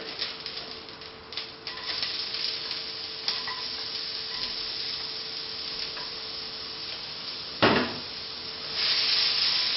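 Onions sizzling in a hot pan after beef has been browned, a steady soft hiss at moderate level with occasional clicks and a brief louder crackle near the end.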